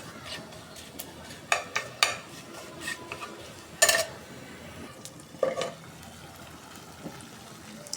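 Eggs stir-fried with spices in a pan: a spatula scrapes and clinks at irregular intervals, a few sharp knocks standing out over a faint background sizzle.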